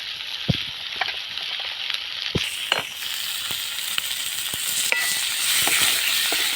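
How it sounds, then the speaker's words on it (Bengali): Spice paste of chilli powder, turmeric and salt sautéing in hot oil, a steady close sizzle broken by sharp scraping clinks of a spatula against the pan, with no talk. "এইভাবে আমি কষে নেব যতক্ষণ মশলা থেকে তেল ছাড়বে ততক্ষণ আমি কষতে থাকবো"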